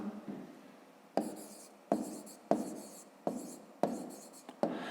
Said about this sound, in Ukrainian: Тепер записуємо відповідь.